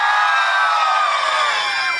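Wedding guests at a sangeet celebration shout and cheer together for the groom and bride, a loud, sustained crowd roar with whoops filling the whole stretch without a break.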